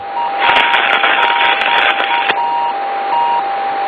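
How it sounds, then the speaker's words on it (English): A Soyuz spacecraft's landing locator beacon beeps in a steady intermittent tone through a noisy radio channel, with a burst of static and crackle under it that cuts off midway while the beeps continue. "It's a beacon that is emanating from the Soyuz craft that search and recovery forces can use to pinpoint the exact touchdown location"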